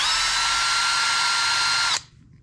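Power driver spinning out the portal screws on a Traxxas TRX4/TRX6 RC truck axle, a steady high-pitched whine for about two seconds that cuts off abruptly, then quiet.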